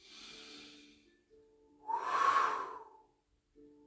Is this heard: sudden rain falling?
no